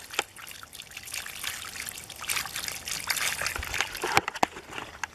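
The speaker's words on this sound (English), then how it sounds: "I'm gonna have to clean the water out of this bucket" Water pours and trickles out of a bucket holding a full minnow trap, with irregular splashing, dribbling and sloshing that grows busier toward the end, close and fairly loud.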